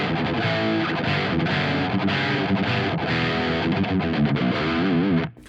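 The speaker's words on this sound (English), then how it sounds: "So this is the low gain lead channel." Distorted electric guitar through an ENGL E530 preamp on its low gain lead channel with the contour switch on, driving a Peavey 6505 power amp; a dense, continuous sustained riff with steady loudness, cutting off abruptly at the end.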